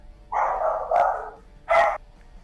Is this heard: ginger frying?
no